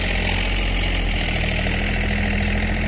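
A small tractor engine idles steadily at close range, a continuous low mechanical rumble with an even throbbing pulse and no voices, on a farm being prepared after a napier grass harvest.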